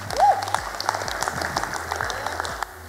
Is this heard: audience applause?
yes